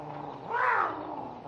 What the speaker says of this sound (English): I'd sure like to hear that cat sound off